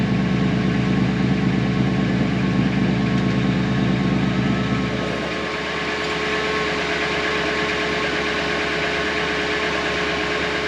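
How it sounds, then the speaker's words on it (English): A Ford Crown Victoria idles with its exhaust cutouts closed, producing a loud, steady, droning rumble that drops to a slightly softer, smoother tone about halfway through, with no voices. "So with the exhaust cutouts closed,"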